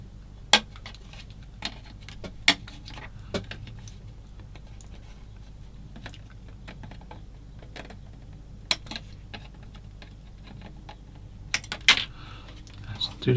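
Plastic parts of a 1/35 scale Gecko Models British landing craft kit snipped off the sprue with cutters, giving sparse, faint, sharp clicks scattered irregularly over a quiet room tone.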